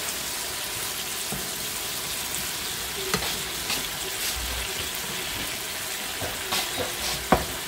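Rice and vegetables stir-frying in a wok, a steady dense sizzle running throughout with a few scraping utensil knocks near the end.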